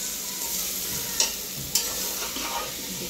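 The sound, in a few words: potatoes added to frying pan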